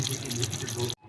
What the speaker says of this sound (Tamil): இப்போ கொஞ்சம் புளியும் உப்பும் கரைச்சி ஊற்றியிருக்கிறேன்